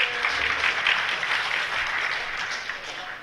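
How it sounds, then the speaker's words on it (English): Scattered, polite clapping from a small conference audience at a locksmithing talk, a brief light patter that thins out over a few seconds. "Ah, the guilt applause."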